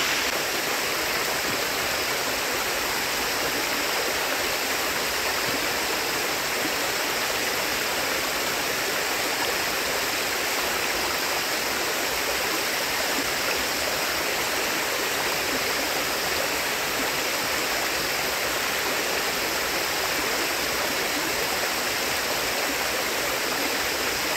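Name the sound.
mountain stream of cold flowing water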